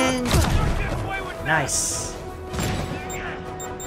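Rocket launchers fire in the Spider-Man PS4 game, producing a few sharp blasts and crashing explosions over roughly four seconds, with a voice speaking over the action.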